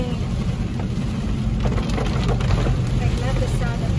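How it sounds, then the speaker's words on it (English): Steady rain falls outside in an atmospheric river storm, a continuous broadband hiss heard from inside a moving car with road rumble, while people talk over it. "I love the rain."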